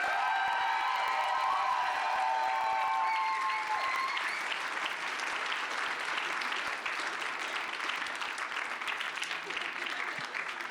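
An audience at a cosplay contest for handmade costumes gives steady, dense applause, with a voice over it at first before the clapping carries on alone, moderately loud and sustained.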